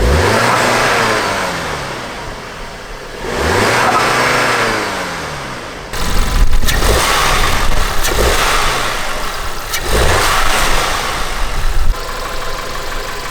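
Audi A3 engine fitted with an APR open intake revs repeatedly, climbing and falling with a throaty, loud induction roar close by, then holds a rougher, steadier drone, without any talk.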